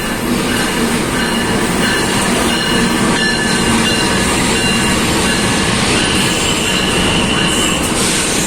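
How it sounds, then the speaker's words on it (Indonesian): The Jayabaya passenger train from Malang to Pasar Senen rolls into an Indonesian station, a loud, steady wash of wheel and rail noise with squealing wheels and clattering cars close by. "ini kembali datang lagi kereta api Jayabaya dari stasiun Malang menuju ke Pasar Senen"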